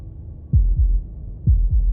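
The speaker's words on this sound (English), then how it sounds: "That was the sound of a heartbeat," A synthetic heartbeat effect from the video game Slay the Princess, with two deep, muffled double thumps in a slow lub-dub rhythm over a low hum, loud and close.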